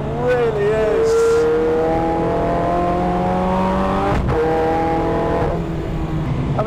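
Zenvo TS supercar engine on a race track, a loud sustained roar with rising harmonic pitch sweeps as it accelerates and shifts, dipping briefly mid-clip, with someone talking over it.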